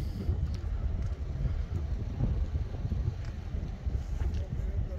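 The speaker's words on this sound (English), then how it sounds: "But that wind's going to make life a little bit difficult to get the distance" Strong wind blowing steadily across a fishing pier at a town quay, a constant low roaring buffet on the microphone with no letup.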